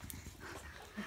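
Young puppies at play, with soft scuffling, small whimpers and panting close by, the faint yips and shuffles coming in short irregular bursts with no talk.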